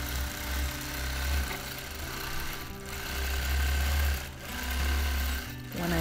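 A domestic sewing machine running free motion quilting on a whimsical roses design, a loud steady mechanical whirr in close bursts that speed up and slow down, with short pauses between runs.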